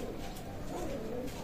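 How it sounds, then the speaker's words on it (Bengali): Direct-bloodline Kamagar pigeons in a loft give soft, continuous low cooing, a faint murmuring that runs steadily throughout. "কামাগার কবুতর বিয়ার্স, ডাইরেক্ট র ব্লাড লাইনের কামাগার"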